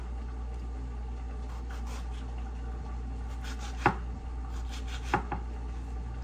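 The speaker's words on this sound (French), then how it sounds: "Donc je vais découper les tomates." Tomatoes are cut with a knife, a few isolated sharp knocks on a board over a low steady background hum, quiet and sparse.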